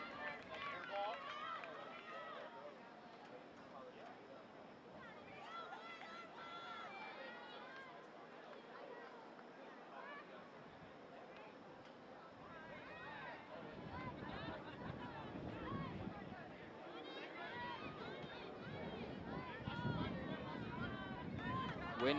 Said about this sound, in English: Wind picking up, you can hear it across our crowd microphone.